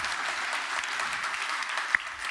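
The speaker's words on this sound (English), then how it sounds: "Olle Håkansson, a big applause." Audience applause at the Nordic Game Awards 2018: a steady, dense wash of clapping from a large crowd, sustained evenly throughout with one sharper clap standing out near the end.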